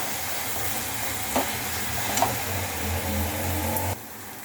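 Masala sautéing in oil in a pan for a cauliflower and potato kurma, a steady close sizzle with a few soft stirring scrapes, cutting off near the end.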